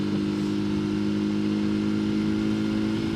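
A Janus Halcyon 250 motorcycle with a 14 horsepower single engine cruises along a road, giving a steady, loud, low thumping drone at constant throttle with mild wind noise.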